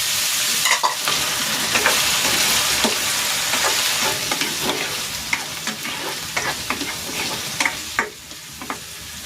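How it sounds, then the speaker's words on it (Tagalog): Potato and carrot pieces frying in hot cooking oil, a steady close sizzle broken by frequent sharp pops and crackles and some stirring scrapes, with no voices. "Ipiprito ko muna itong patatas at itong carrots."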